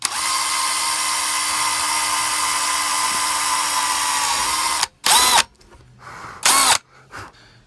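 A power drill whines steadily and loudly for about five seconds while boring holes for a recovered microwave vent fan, then stops and gives two more short bursts followed by a brief final spin.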